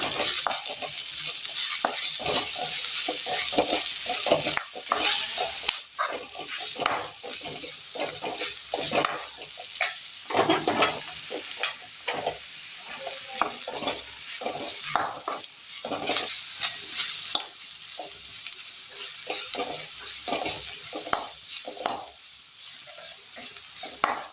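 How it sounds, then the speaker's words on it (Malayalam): A meat roast is stirred in a frying pan with chili powder, turmeric and meat masala, giving steady sizzling under repeated scraping and stirring strokes close up, with no talking. "ഇതിലേക്ക് മുളക് പൊടി, മഞ്ഞൾപ്പൊടി, മീറ്റ് മസാല മിക്സ് ചെയ്യാം."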